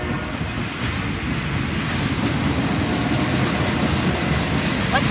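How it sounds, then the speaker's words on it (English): A freight train led by an SD40 diesel locomotive rolls past nearby, a steady, loud broadband rumble with a faint high whine near the end. "Oh, we got an SD40."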